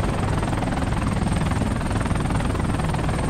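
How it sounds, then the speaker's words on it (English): Aircraft roaring overhead in the military shooter game Project Reality, a steady loud rotor-like drone with a rhythmic pulsing chop that fills the whole stretch without talk. "aircraft"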